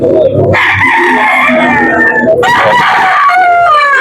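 A rooster crows loudly and close, long drawn-out calls with chickens clucking around it, at a backyard poultry auction.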